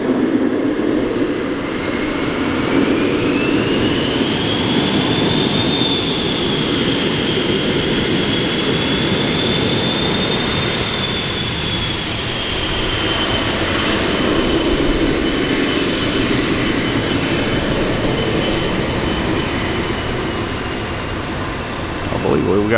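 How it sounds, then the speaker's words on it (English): A small jet taking off from a nearby airport roars steadily for over twenty seconds, with a whining tone that rises and falls over a broad rumble, and a person speaks faintly at times. "We got a small jet taking off over here at the airport making all that noise."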